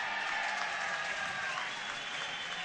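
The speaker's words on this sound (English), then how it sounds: "Now he gets a nice cheer from the fans here at Bear Mountain Arena." Fans at Bear Mountain Arena cheer and applaud for the goalie McDonald during a lacrosse finals game, Langley at Victoria, in a steady, dense wash of clapping and crowd noise that runs throughout.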